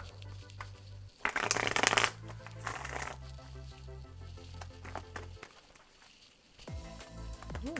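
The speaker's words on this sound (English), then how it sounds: "Shuffle, shuffle, shuffle." Tarot cards being shuffled by hand in quick riffling bursts, loudest near the start and softer afterward, over a quiet background music bed.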